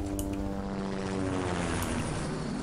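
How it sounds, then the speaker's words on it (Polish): A loud, steady video game helicopter rotor and engine drone in the game Chaser, with a low pulsing thrum, continuous throughout and heard without any voices. "To był dopiero spory śmigłowiec."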